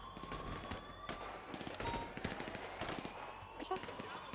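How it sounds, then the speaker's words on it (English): Distant gunshots in a GTA V NoPixel roleplay shootout, scattered bursts of shots pop and rattle at low volume under a steady game background, with a voice talking through parts of it. "Someone shooting from the outside."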